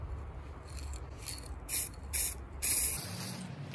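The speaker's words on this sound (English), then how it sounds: "There's spray coat number one of the primer" Several short hissing bursts of spray paint applying a primer coat, each lasting under a second, separated by brief pauses over a low background rumble.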